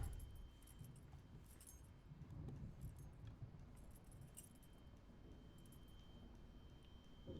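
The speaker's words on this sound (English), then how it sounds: "Keychain with 2 keys." Two keys on a keychain in a video game jangle in quiet, scattered metallic clinks over a low background rumble, faint and close.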